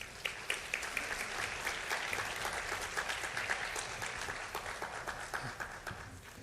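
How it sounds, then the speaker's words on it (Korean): An audience gives warm welcoming applause as a university president comes forward to speak at a gathering, a sustained, even round of clapping with a steady rhythmic texture that tapers slightly at the end. "자, 우리 따뜻한 박수로 환영하겠습니다."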